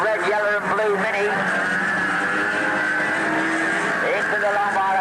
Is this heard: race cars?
yes